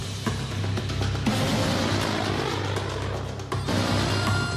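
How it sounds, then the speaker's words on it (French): A heavily armed AC-130 gunship flying overhead, a steady loud propeller-engine drone with a low rumbling hum that continues throughout, broken briefly by a few sharp cracks. "La présence d'une canonnière volante lourdement armée au-dessus d'une zone de conflit offre un grand avantage militaire et"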